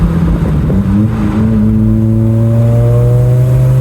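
A motorcycle engine running a RevMap performance tune revs on a downshift, a loud close drone whose pitch climbs and holds steady with no popping, heard alone.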